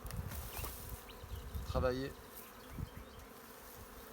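Honeybees hum around a hive frame at Château d'Espeyran, a soft, continuous buzzing with close passes drifting in and out, while someone briefly speaks over it.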